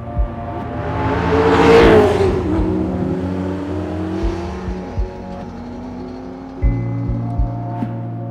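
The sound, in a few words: race car engine revving on track test day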